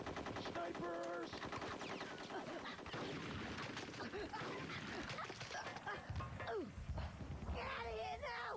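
Sniper and machine-gun fire in the N64 game Conker's Bad Fur Day, loud rapid bursts and shots packed under shouting voices and chaotic game effects.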